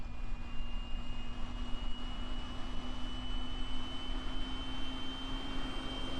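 Steady roar of a jet engine on an aircraft in Kerbal Space Program, a broad continuous rush with faint tonal whine lines, constant and loud throughout with no talk.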